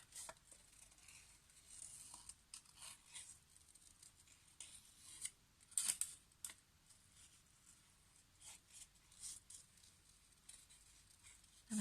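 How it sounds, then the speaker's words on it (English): Large scissors fussy-cut a paper embellishment for a junk journal page, making faint, irregular snipping and crisp paper rustles at close range. "I'm fussy cutting this one out."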